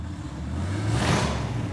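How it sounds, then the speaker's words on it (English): Exhaust of a custom car engine rumbles outside a custom car shop, a steady low drone that swells slightly in the middle as if revving, heard from a distance with no talk. "I start hearing this really killer exhaust coming from outside the shop"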